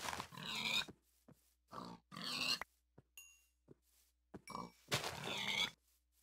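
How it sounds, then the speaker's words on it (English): Minecraft pigs grunting: several loud, close oinking grunts in separate bursts, with short gaps, faint clicks and a brief chime between them. "And murdering pigs just to get some food."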